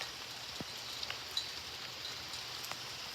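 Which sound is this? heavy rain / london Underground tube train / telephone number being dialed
heavy rain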